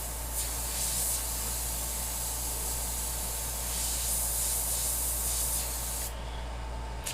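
An airbrush sprays paint in a steady, close hiss while texture is added to a skull painting inspired by Prey, continuous and even before cutting off sharply near the end.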